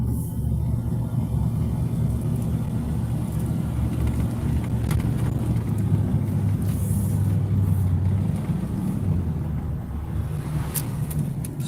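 A classic car pulling away after refuelling, heading to a vintage car meet in wet weather: a loud steady engine rumble with road and wind noise, continuing unbroken for the whole stretch.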